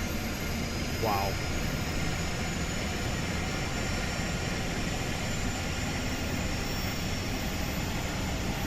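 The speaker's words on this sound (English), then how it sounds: "That APU sounds good." An Airbus APU runs in Microsoft Flight Simulator 2020 with the FlyByWire mod, a steady, even whine and hum held throughout, blended with another aircraft idling nearby.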